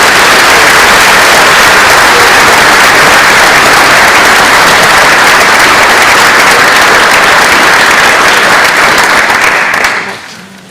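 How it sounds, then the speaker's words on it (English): Loud, sustained audience applause for scholarship students at a high school senior awards night, dense and unbroken for about ten seconds before tapering off at the end. "Please give these students a round of applause."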